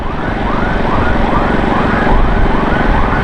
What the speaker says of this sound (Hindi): फायर ब्रिगेड की गाड़ी आ रही है